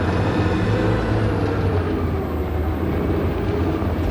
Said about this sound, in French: Putain, Marcus a son 12 tonnes, attention là